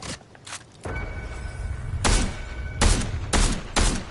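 Bursts of gunfire in a Star Wars arena video game, several loud rapid volleys in quick succession with short gaps between them, close and dominant.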